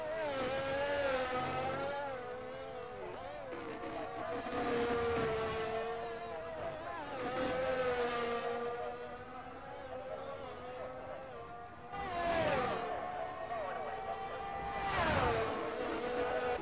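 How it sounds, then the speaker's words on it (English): F1 car from the F1 22 racing game lapping the Azerbaijan street circuit in Baku, its engine whining in rising and falling harmonics through corners and onto the long back straight, with a commentator talking over it throughout. "RZX Games coming through the castle section now, carrying speed onto this long back straight"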